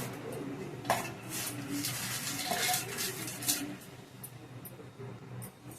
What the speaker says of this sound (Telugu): ఇప్పుడు కాకరకాయలు వేస్తున్నాను